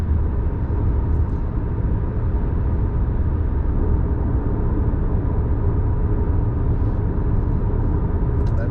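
A 2020 Honda Accord Hybrid's engine engages under hard acceleration, heard from inside the cabin as a steady, dense low rumble and road roar that holds evenly throughout, with no voices.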